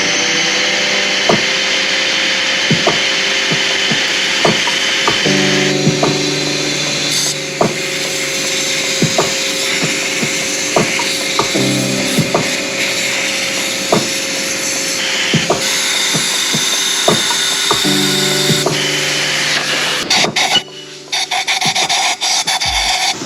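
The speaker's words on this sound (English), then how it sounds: "Use a wire brush and get all of these off right here and whatnot." Steady, harsh scrubbing of a wire brush against carbon buildup on a BMW N54 engine, continuous and close, over a droning hum from a machine running nearby.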